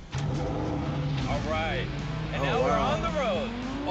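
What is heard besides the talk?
Lamborghini engine accelerating on the road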